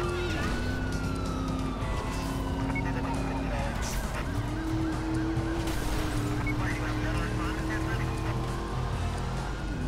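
Police car sirens wailing in the driving game Driver San Francisco during a pursuit, rising and falling continuously over dense engine and traffic noise, with a voice talking over them.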